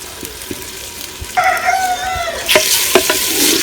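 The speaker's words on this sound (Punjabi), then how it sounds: "ਹੁਣ ਸ਼ਾਮਲ ਕਰਾਂਗੇ ਟਮਾਟਰ ਤੇ ਸਬਜ਼ ਮਿਰਚ।" Tomatoes and green chillies added to a frying pan of village-style baingan bharta and stirred, giving sizzling and scraping stir sounds with a few clinks, while a rooster crows clearly partway through in the background.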